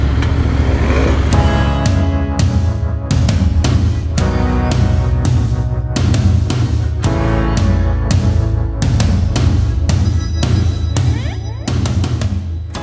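A Royal Enfield Interceptor 650 motorcycle engine warms up before a ride, its loud, close, steady throbbing idle broken by repeated short throttle blips.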